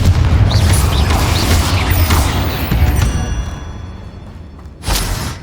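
Confringo blasting spell exploding in Hogwarts Legacy during a dark arts fight, a loud booming blast with rumbling low end and whooshing debris that fades, followed by a second sharp burst near the end.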